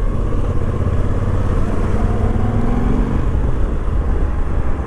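A Moto Guzzi V85 twin-cylinder motorcycle cruising steadily in third gear at about 3000 rpm, heard up close as a loud, even engine drone with a low throbbing pulse mixed with wind rush, with no voices.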